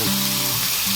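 Onions hit a hot grill alongside BBQ pork chops, giving a loud, steady sizzle with crackling frying noise that runs unbroken and close for about a second, with no talking.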